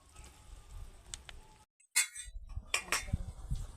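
A utensil clinks against a pot a few times as boiled chicken pieces are lifted one by one from the water over a low flame; the sharp metallic taps are faint and near, with quiet stirring between them.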